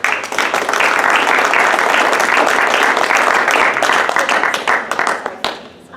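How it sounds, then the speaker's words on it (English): Loud, dense audience applause at a board of education meeting, a full room clapping steadily before tapering off and fading near the end. "I think first a round of applause."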